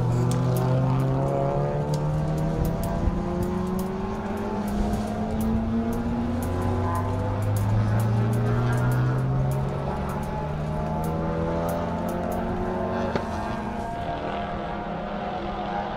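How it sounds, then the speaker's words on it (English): A Subaru WRX street-class race car on a hot lap at Circuit of the Americas, its engine droning loudly and continuously with rising and falling pitch sweeps as it shifts and accelerates, with no talk. "That's Ryan Dissex in the DSX Motorsports Subaru WRX in street class."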